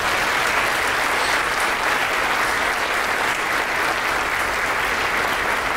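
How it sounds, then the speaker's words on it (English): Sustained audience applause at a cancer center ribbon cutting ceremony in Rutherford College, a dense, loud wash of clapping that holds steady throughout. "please join in giving our teammates and our physicians a round of applause"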